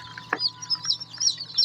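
Newly hatched chicks in an incubator peeping: a quick run of high, thin chirps close by, with one brief sharper sound near the start, no speech.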